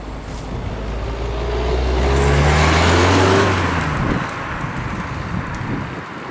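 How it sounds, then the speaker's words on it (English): A 2013 Ford Focus out on the road, its engine note rising and falling through a gear change amid steady road rumble and wind noise, close and fairly loud with no talking. "now let's go for a drive in the 2013 Ford Focus"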